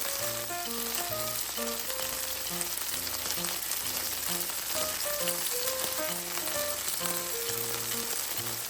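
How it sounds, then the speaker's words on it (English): Shrimp searing in a stir-fry pan, for a broccoli and shrimp dish, give a steady, dense sizzle that holds close and loud throughout with no pauses. Faint tonal music runs underneath, and no one speaks. "Let the shrimp sear and develop a little char."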